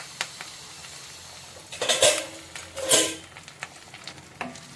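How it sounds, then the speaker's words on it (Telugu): Garlic and curry leaves drop into hot tempering oil for a gongura seasoning, giving two loud bursts of sizzling and frying with a few clinks of a spoon against the pan, then settling to a low background crackle. "పోపు గింజలు కొంచెం చిట్టుపట్టు అనేటప్పుడు ఈ ఎల్లిపాయలు కూడా తీసినవి వేసుకుందాము. అలాగే ఈ కరివేపాకు కూడా వేద్దాము."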